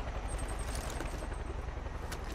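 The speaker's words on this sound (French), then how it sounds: "J'entends un hélico." Helicopter hovering overhead in the video game Far Cry 5, a steady low rotor drone with a faint high whine, fairly quiet and continuous with no talk.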